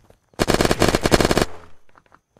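An Uzi submachine gun in the survival game Unturned fires one rapid, loud burst of about a second, then a short echoing tail and near silence.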